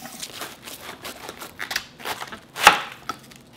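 A knife cuts through a crispy Korean-style pork cutlet (donkkaseu), giving a quick series of soft crunchy chops with one sharper, louder crunch near the end.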